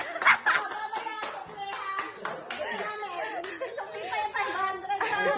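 Family group clapping at a Father's Day gathering, scattered hand claps mixed with lively chatter, children's voices and laughter, close and fairly busy.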